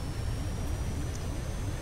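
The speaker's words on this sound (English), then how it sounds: "Starts with a plane crash." A plane crashes in the survival video game Stranded Deep. It comes across as a steady, heavy low rumble of roaring engine and wind noise that fills the whole short stretch with no voices.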